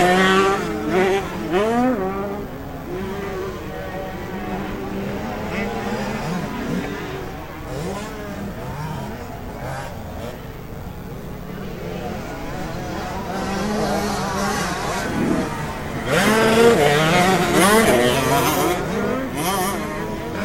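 KTM 65cc two-stroke motocross bikes race around a dirt track, their high, buzzy engines revving and shifting up and down in overlapping waves, while a commentator talks over the racing.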